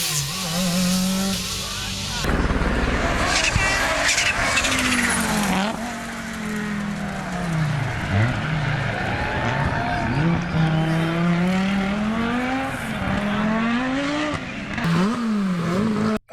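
Group B and legend rally cars race past with loud revving engines, rising and falling pitch sweeps, gear changes and tyre skids, close and continuous, with a voice talking over part of it.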